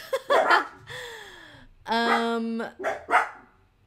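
A dog barks and yelps close by in several bursts, mixed with a drawn-out whine and some laughter in between.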